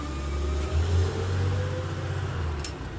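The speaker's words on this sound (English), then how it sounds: "when the garbage truck's going by" A garbage truck drives by outside with a steady low engine rumble. A brief surge in the middle rises above a constant background hum, and no one speaks.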